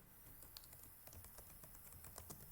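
Typing on a computer keyboard while entering a LaTeX introduction, a quick irregular patter of soft key clicks that stays close and alone with no voices.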